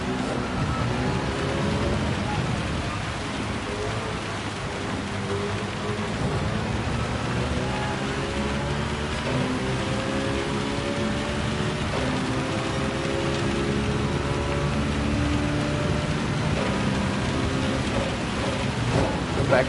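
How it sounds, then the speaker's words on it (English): Heavy rain hisses steadily over a wet race track in Gran Turismo 7, with the droning whine of racing car engines rising and falling underneath throughout. "because of the heavy rain coming back again"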